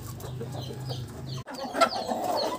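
Free-range village chickens cluck softly nearby awaiting feed, a few short calls breaking through a low background murmur, with no talking.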